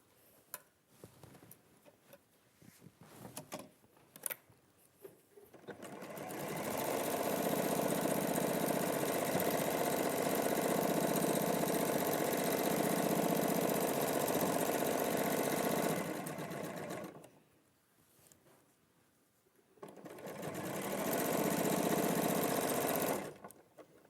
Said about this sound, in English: And then we're just going to sew that 1/4 inch.